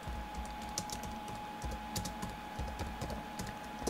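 Steady, quiet clicking of fingers typing on a computer keyboard, irregular keystrokes pattering close by with no one speaking.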